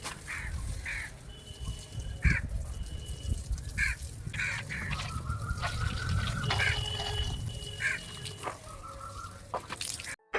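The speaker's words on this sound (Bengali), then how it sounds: "আজকে ছাদের ওপর যখন থেকে আমি উঠেছি তখন থেকে এত কাক ডাকছে এত কাক ডাকছে" Several crows caw repeatedly around a rooftop, calls coming in irregular bursts at moderate distance, over a low background rumble with dripping water.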